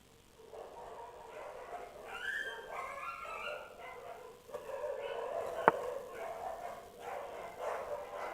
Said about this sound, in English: Oh my god, dogs are fighting outside